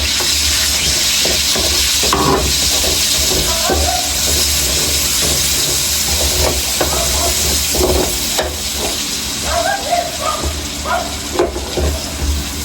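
Onions frying in chicken oil left in the pan, a steady loud sizzle and hiss with scattered stirring scrapes and pops throughout.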